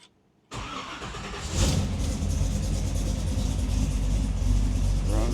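A rat rod car's engine cranks and catches after a short silence, then settles into a steady, close, throaty idle that swells slightly and keeps running evenly, with no voices over it.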